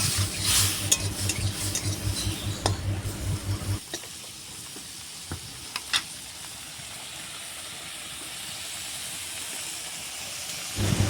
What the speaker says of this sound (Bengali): জলটা পুরো শুকনো করে লাল লাল করে ভেজে নিতে হবে